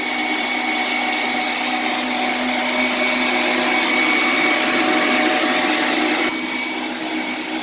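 An electric mixer whips Chantilly cream for a chocolate mousse tart, a loud, steady motor whine that holds constant throughout and shifts slightly in tone near the end, with no talk.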